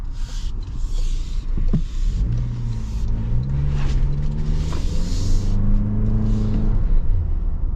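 Turbocharged 4-cylinder engine of a 2024 Toyota Land Cruiser First Edition hybrid accelerating, a loud, steady rising drone with a deep rumble heard from inside the cabin, with no talking.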